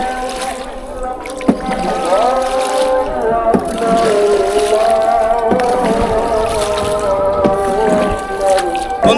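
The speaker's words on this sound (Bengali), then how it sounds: "আমরা আবার নৌকা বেয়ে ওপার যাচ্ছি" A wooden boat is rowed across a strong-current river at dusk, with steady water sloshing and gurgling around the hull and a faint, distant droning voice in the background.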